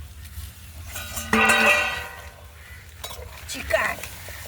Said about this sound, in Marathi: आता आपण याचं ढाकण काढून बघणार आहोत